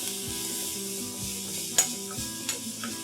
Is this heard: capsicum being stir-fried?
yes